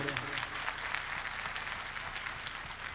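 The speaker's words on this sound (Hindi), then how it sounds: "ये तालियां एकदम स्वर में बज रही" Audience applause at a public gathering: dense, continuous clapping from a crowd, steady and fairly close, with a voice speaking over it.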